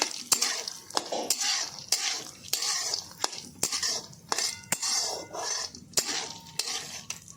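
Melon seeds roast in ghee in a pan while a metal spoon stirs them, giving sharp, repeated clinks and scrapes over a low, faint sizzle, heard close with no voices.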